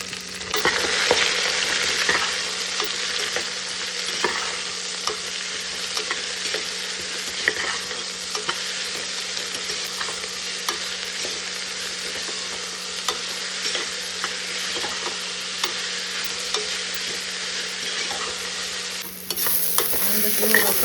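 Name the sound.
onions frying and being stirred in a pan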